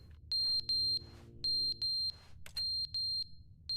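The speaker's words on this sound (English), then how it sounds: "The fire alarm's going on." Fire alarm in The Stanley Parable: Ultra Deluxe chirping in a series of shrill, piercing electronic beeps, paired and spaced irregularly over a low room hum, loud and clear with no voices.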